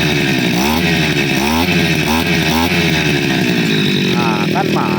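A small petrol grass-cutter engine revs loudly and close up in repeated rising bursts over a steady buzzing idle, with a voice speaking briefly over it.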